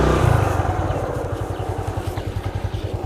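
A motorcycle rides along a road nearby, its engine giving a steady, rhythmic pulsing putter that holds an even pace throughout after a louder opening burst.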